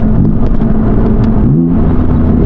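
BMW M4 engine revving hard through downshifts, a loud, steady, close rumble with a brief dip and blip partway through, heard from inside the car.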